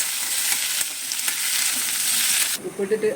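Tomatoes and cashews for veg kolhapuri fry in a pan, a loud dense close sizzle that holds steady, then drops as a few soft stirring knocks come in at the end.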